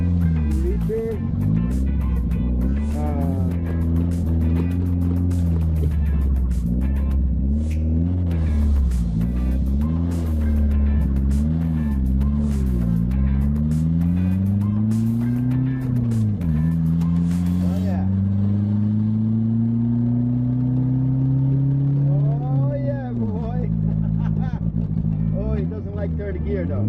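Turbocharged Mitsubishi Eclipse 2G pulling hard under boost, engine note climbing steadily through the revs with gear changes, loud and close from inside the car throughout.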